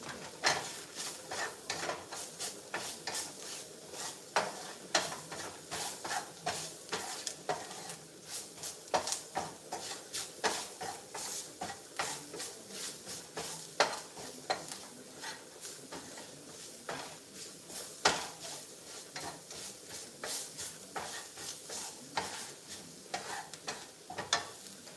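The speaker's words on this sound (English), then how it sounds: "this is the grease that I'm using off of my salmon." Salmon grease sizzles steadily in a pan with flour, a dense crackling hiss broken by frequent sharp ticks and pops, close and moderately loud with no talking.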